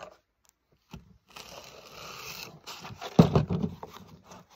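Foam being trimmed for a muskrat float, with short scraping, crinkling cuts that build to one louder tearing burst near the end, close up and without talk.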